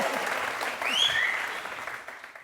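An audience in a television studio applauds with steady clapping that swells briefly and then tapers off, moderately loud and without talk.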